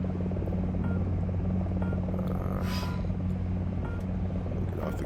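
An AH-64A Apache helicopter's rotor spinning up toward full RPM in War Thunder: a loud, steady low drone with a throbbing hum, continuous and close, with a brief whooshing swell partway through.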